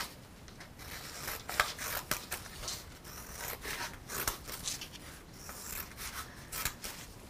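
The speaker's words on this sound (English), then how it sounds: "I'm going to cut down, and then I'm going to skip one of these folds, and then I'm going to cut down" Scissors cut through folded paper in a quick series of close, crisp snips and rustles, repeated steadily with short pauses between cuts.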